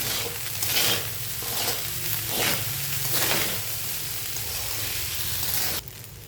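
Tomato rice being stir-fried in a pan, a loud, continuous sizzle with rhythmic stirring swells, close up, cutting off abruptly near the end, with nothing spoken.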